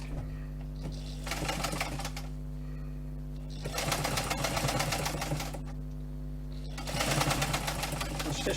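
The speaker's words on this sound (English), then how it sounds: "I'm going to stitch the side down." A sewing machine stitches the side of a leather multi-tool pouch in three rapid mechanical bursts separated by pauses, close and clear over a steady low hum.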